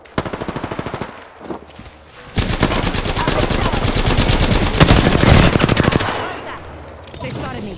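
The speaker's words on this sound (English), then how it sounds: "They spotted me. I'm taking shots." Enemy automatic gunfire in a video game rattles loud and close in long sustained bursts, with a brief pause before it resumes and rapid fire dominating the middle stretch.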